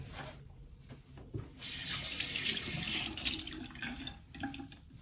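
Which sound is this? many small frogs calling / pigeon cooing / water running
water running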